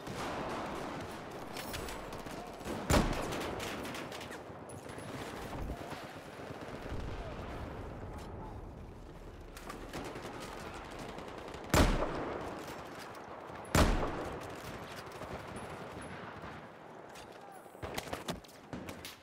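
Gunfire in a first-person shooter game, including sniper shots, with several sharp, loud cracks spread out between stretches of busier background combat noise.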